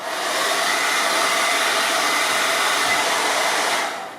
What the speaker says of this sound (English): now I'll go in with a blow dryer, and at this time I want the heat to be on about warm